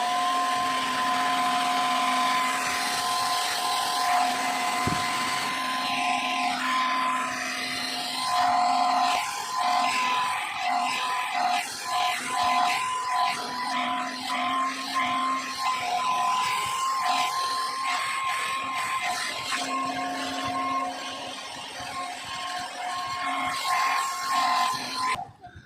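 A hair blower runs loudly while drying hair during an at-home Brazilian botox treatment, a continuous whining motor hum whose airflow shifts and wavers as it moves around.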